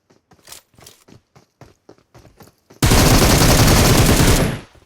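Loud, continuous automatic gunfire from the mobile battle-royale game PUBG Mobile bursts in abruptly after a run of soft, scattered game sounds and holds for about two seconds before cutting off.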